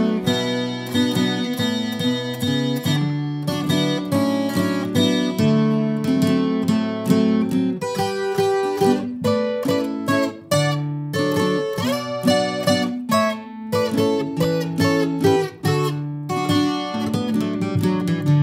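A requinto guitar plays a tune at medium speed, a steady run of bright plucked notes and strummed chords filling the whole stretch with no voices.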